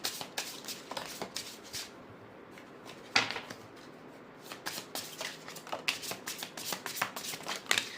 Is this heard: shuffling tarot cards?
yes